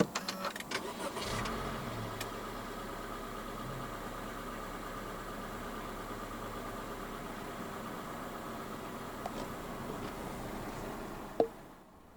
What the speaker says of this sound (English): Put your foot on the brake and press the start button to the right of the steering wheel.